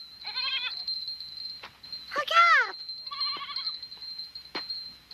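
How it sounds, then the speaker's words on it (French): Goats on a mountain pasture bleating in several short wavering calls, one louder and nearer than the rest, over a steady high tone, with a voice speaking briefly. "tu vois bien que les chèvres ne veulent pas partir sans moi."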